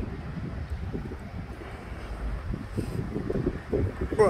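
Strong wind in a heavy rainstorm at Al Hoceima, a continuous low rumbling buffet that swells and gusts louder toward the end, with no other clear sounds.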